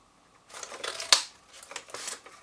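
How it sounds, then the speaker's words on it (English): Card being cut along a line with a word window punch, a few soft crisp snips and rustles close by, with one sharp click in the middle. "So I've just got my word window punch and I'm just going to cut along the line"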